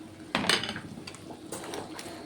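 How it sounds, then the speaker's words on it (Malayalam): Fried fish pieces are tipped into a cooking pot and mixed, giving a couple of quick clinks and scrapes of metal on the pot, close and soft with no voices. "വറുത്ത് വെച്ചിരുന്ന മീൻ കഷ്ണങ്ങൾ ചേർത്ത് കൊടുത്ത്"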